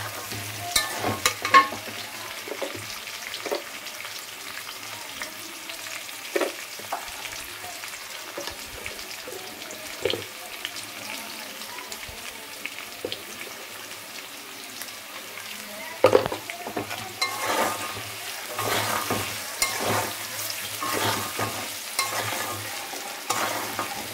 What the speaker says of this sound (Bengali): এখানে দেখো আমার মাছগুলো সমস্ত ভাজা হয়ে গেছে